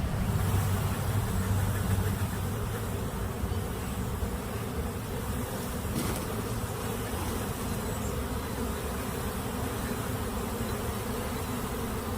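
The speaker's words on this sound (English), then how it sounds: "Now we're going to get these bees down in to this hive." A dense, steady buzz of many honeybees being installed into a hive fills the air continuously, loud and close, with no voices.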